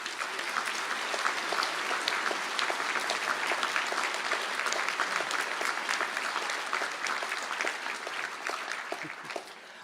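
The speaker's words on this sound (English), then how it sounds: "I ask the graduates of the Business Information programmes to stand for a round of applause" Sustained applause from a large audience honouring graduates of the Business Information programmes at a Galway City conferring ceremony, steady dense clapping throughout that eases slightly toward the end.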